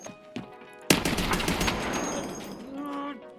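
Rapid automatic gunfire from a gun in the Escape from Tarkov video game: a few isolated shots, then a loud sustained burst of close fire with echoing tails, while a player talks over it.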